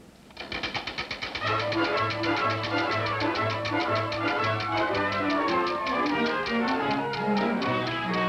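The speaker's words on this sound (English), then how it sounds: "Turn the wheel." A game show prize wheel spins with a loud run of rapid clicks that gradually slow as it winds down, mixed with a steady tone, and no one speaks over it.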